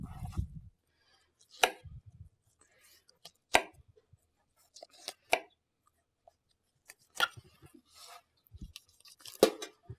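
A knife cuts through a round fish while it is filleted on a board, giving scattered sharp slicing and scraping strokes close up between quiet pauses.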